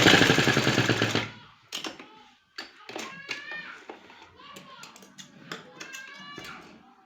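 Sewing machine double-stitching a trouser seam, a loud, rapid, dense burst for just over a second that stops abruptly, followed by someone talking close by.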